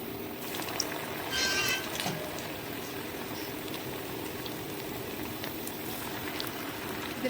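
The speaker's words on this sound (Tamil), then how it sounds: "இது நல்லா ப்ரௌன் ஆகிற வரைக்கும் நம்ம வந்து ஃப்ரை பண்ணலாம்" Potato wheat bonda balls frying in hot oil over medium heat, a steady close hiss and fine bubbling crackle that holds evenly throughout, with a brief louder sizzle near the start as pieces go in, no talk.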